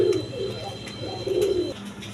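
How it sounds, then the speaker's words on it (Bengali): Pigeons coo at a Bangladeshi pigeon market selling breeds such as army and Lahori pigeons. Soft, rolling low coos repeat in close, overlapping phrases over faint background noise. "এখানে আর্মি কবুতর আছে দেখেন"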